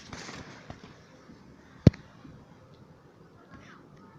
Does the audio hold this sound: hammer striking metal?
no